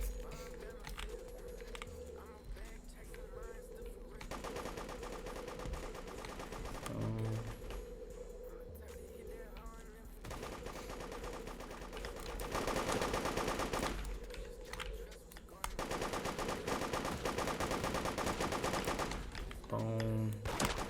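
Gunfire in the Roblox game Da Hood, with bursts of rapid shots and single reports that repeat in clusters over game background noise.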